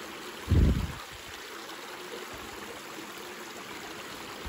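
A creek along the North Country Trail in Kinzua Country in December flows with a steady, even rushing wash, close by and continuous, with a brief low thump near the start.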